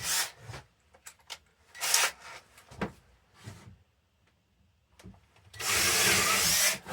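A power drill bores into cedar wood in short bursts, several brief whirring runs separated by pauses and clicks, ending in a longer, louder grinding stretch.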